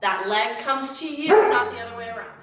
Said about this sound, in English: And I apologize for my dog. I don't know what he's barking